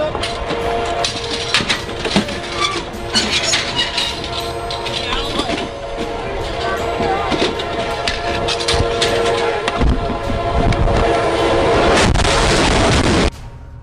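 A train bears down on the tracks toward a stalled hospital bed, its loud, continuous rumble and rattling growing into a dense roar with sharp bangs, a horn-like tone and raised voices mixed in.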